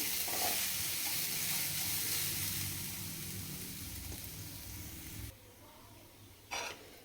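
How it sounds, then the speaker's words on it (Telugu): Grated coconut dry-roasts in a pan for coconut halwa, a soft, steady hiss and rustle of stirring that fades slightly, ending with a brief scrape. "ఇది బాగా పొడి పొడిలాడేదాకా వేపండి"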